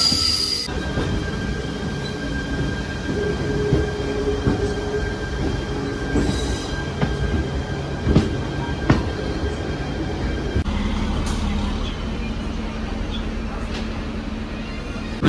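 A MEMU Express train rolls into Pandilapalli station near Khammam, a steady loud rumble of wheels on rail with brief squeals and clanks, heard from on board with a voice talking now and then.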